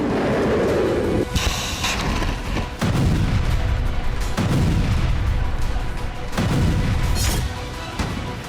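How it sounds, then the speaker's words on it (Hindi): Artillery blasts in a Russia-Ukraine war zone: a series of loud, booming detonations, several heavy impacts spaced a second or two apart with rumbling low-end decay, over continuous noisy background; no speech. "धमाकों से जमीन रह रह कर थर्रा रही है और आसमान काले धुएं से स्याह"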